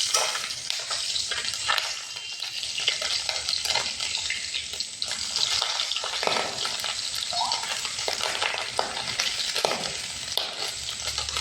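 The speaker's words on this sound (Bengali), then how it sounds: "বাকি মাছ আছে ওগুলো ভেজে নেব।" Small puti fish sizzling as they fry in hot oil in a pan, a steady crackling hiss with occasional stirring and scraping clatter, close and continuous with no talk.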